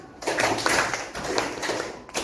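A classroom group claps hands together in a teacher-led counting clap game, producing dense, overlapping claps close by with no voices.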